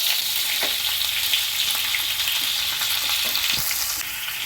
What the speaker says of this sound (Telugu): ఇది చక్కగా ఫ్రై చేసేసుకోవాలి. గోల్డెన్ బ్రౌన్ కలర్ వరకు ఫ్రై చేసుకోవాలి.